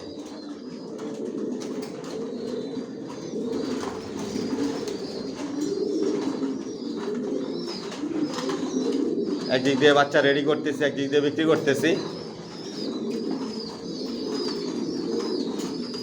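Racer pigeons coo in a multi-storey breeding loft, a low murmuring chorus running throughout, with a burst of wing flapping near the middle while someone talks over them.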